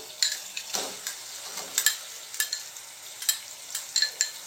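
Chicken pieces dropped into a pan of browned onions, with soft sizzling, scattered clicks and scrapes of stirring, fairly quiet and close, with no talk.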